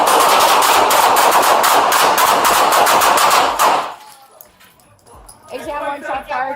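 Police officers fire a rapid volley of gunshots inside a store at an armed robbery suspect, loud and close on a body camera. The shots come in fast repeated bursts, then stop abruptly, followed by quieter sounds and shouted voices.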